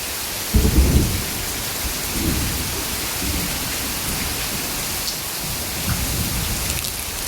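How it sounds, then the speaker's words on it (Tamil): Steady heavy rain hisses throughout in Pondicherry while low rumbles of thunder roll in, strongest early on, then softer rolls later. "இடி இடிக்குது."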